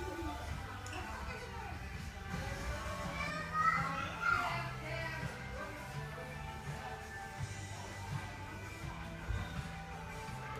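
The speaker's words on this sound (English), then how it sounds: "there's kids screaming" Busy indoor din of children playing and screaming in a B&M shop, with occasional higher-pitched squeals rising over steady background chatter; moderately distant.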